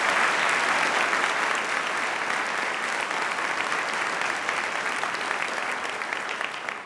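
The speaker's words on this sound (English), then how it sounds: "Please join me in another round of applause for our exceptional students from the Moore's Concert Chorale" A large audience applauds steadily for the Moore's Concert Chorale students at the 2017 President's Fall Address, a dense, sustained wash of clapping with no talk, tapering slightly near the end.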